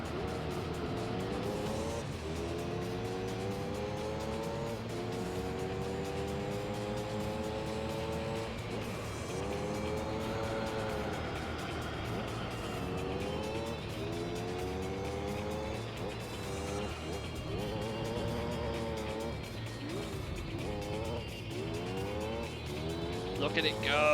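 The LMP Dragon race car in Gran Turismo 3 races on, its engine revving up and down through repeated gear changes with occasional tyre squeal, loud and continuous, while someone talks over it.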